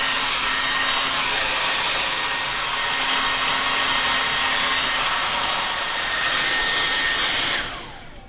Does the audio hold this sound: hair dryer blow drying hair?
yes